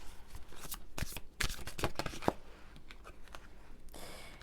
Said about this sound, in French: On va sortir une autre carte.